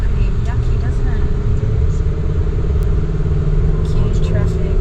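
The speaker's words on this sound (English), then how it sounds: "Huge traffic." Heavy road traffic on a busy highway, a steady loud rumble of car and motorcycle engines passing close by, continuous for the full stretch with no break in the noise.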